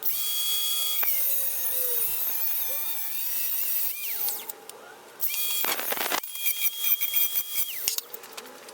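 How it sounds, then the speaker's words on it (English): A power drill bores a 3/8 hole in the steering shaft of a Dodge W150. A loud, close, high whine runs steadily, drops in pitch under load, stops briefly and restarts with a few uneven surges. No one talks. "drill a 3/8 hole in here"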